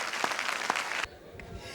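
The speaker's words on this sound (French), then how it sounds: "Applaudissements pour lui." Studio audience at a televised talent show applauding a DJ, a short burst of close, dense clapping that cuts off suddenly after about a second, leaving a quieter room.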